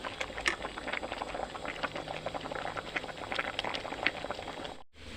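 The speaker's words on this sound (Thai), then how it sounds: "เราก็ตั้งกะทินะตั้งกะทิให้มันแตกนะ แตกมันแล้วเราก็เคี่ยวนะคะ" Coconut milk for a Thai curry with pork belly and cassia leaves simmers in a pot, a steady close bubbling and popping that runs continuously and fairly quietly before cutting out briefly near the end.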